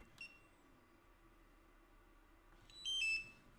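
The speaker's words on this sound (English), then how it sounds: "turn off the goggles, gonna be a beep." A bright electronic beep from goggles sounds briefly near the start, then a louder, sustained high-pitched tone rings out for about half a second near the end over quiet background noise.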